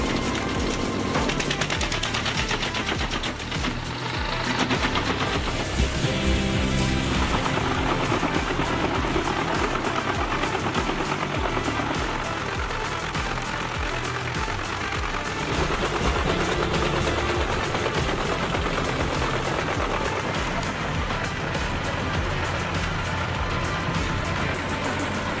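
A wood chipper machine collects and grinds wood in a continuous, loud, steady mechanical roar with engine drone, running alone throughout with no talk.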